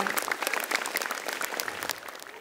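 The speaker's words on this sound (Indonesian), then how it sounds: "Tepuk tangan dulu dong buat kalian semua" Steady applause from a live comedy show audience, brisk dense clapping at moderate level throughout the short stretch.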